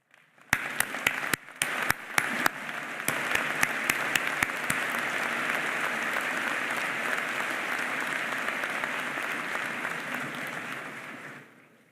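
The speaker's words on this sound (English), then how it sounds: "let us welcome you with a round of applause." Audience applause at a Citadel Corps of Cadets commencement ceremony: a few sharp early claps swell into sustained, even, fairly distant applause from a large crowd that fades out near the end.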